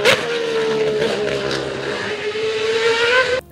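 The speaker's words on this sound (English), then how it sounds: "Mercedes V12 plus equal length headers equals Formula One sound" Mercedes six-litre V12 fitted with equal-length headers in a Nissan gives a loud, close, steady high-pitched wail that holds smoothly for the whole stretch.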